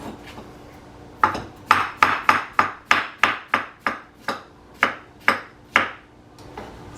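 A knife chops cucumber on a cutting board in about a dozen crisp, evenly spaced knocks, loud and close with no talk.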